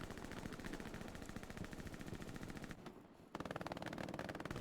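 Rapid bursts of machine gun fire from a 40-versus-40 World War II shooter match in winter Carentan, loud and continuous with a brief dip near the middle before the rattling resumes heavier.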